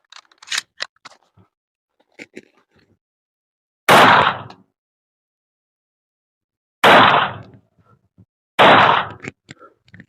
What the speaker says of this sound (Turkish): Ses fişeğini de sorunsuz bir şekilde attı.